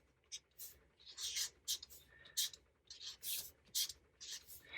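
An orange marker squeaks and scratches across paper in short separate strokes, a string of close, quiet bursts with brief gaps between them.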